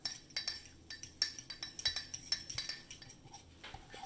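A spoon clinks and scrapes against a mug while stirring chocolate chip cookie batter, a quick irregular series of light, bright taps heard close and alone.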